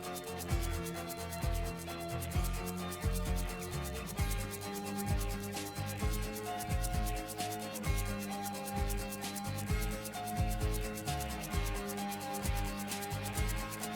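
A shaker percussion track playing within a studio music mix, rapid rhythmic rattling strokes riding over bass and other instruments, steady and moderately loud.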